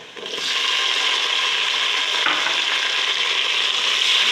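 Steady, loud sizzle of garlic and ginger frying in a hot pan, with a brief stir partway through.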